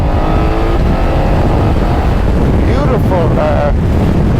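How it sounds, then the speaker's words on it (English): A BMW F900XR motorcycle riding at speed, with its quick shifter snapping through gears in brief rising engine notes, heavily buried under loud, constant wind roar. "Beautiful quick shifter. My goodness, it is absolutely gorgeous. It just bangs in the gears without any clunkiness."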